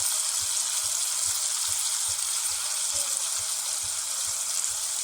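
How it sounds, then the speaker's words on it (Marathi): Spice masala, including garam masala, fries in hot oil with soft tomato for an Agri-style prawn curry, giving a constant close sizzle punctuated by regular soft taps of a spoon stirring the pan. "गरम मसाला अर्धा चम्मच मसाला चांगले तेलामध्ये मिक्स करून घेतो"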